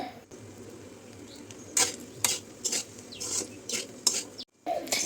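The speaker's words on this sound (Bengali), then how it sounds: "এখন এগুলো ভালো করে নেড়ে চেড়ে মিশিয়ে নিব" Spicy pasta with tomato sauce and spices stirred in a pan, repeated scraping and rubbing strokes of a spoon in an irregular rhythm over a low sizzle, close and moderately quiet, with a brief silent gap.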